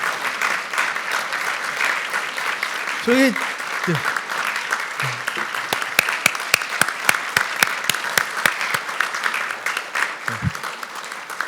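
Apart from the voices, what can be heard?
applause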